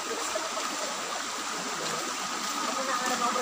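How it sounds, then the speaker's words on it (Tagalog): Waterfall plume pouring outdoors at a travel spot, a steady broadband rush of flowing water, moderately loud and continuous. "This is the flow, and this is the water."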